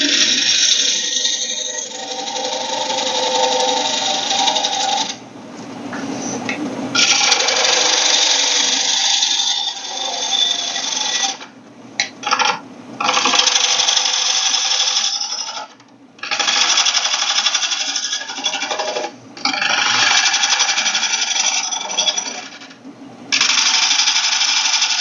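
A wood lathe spins a bowl blank while a bowl gouge cuts from the rim inward, giving a loud, continuous scraping whir that stops briefly several times between passes, with no talking.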